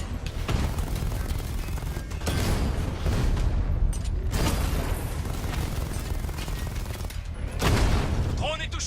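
A volley of gunfire and explosions hits an allied unit in a video game, dense bursts and booms running continuously under game voices.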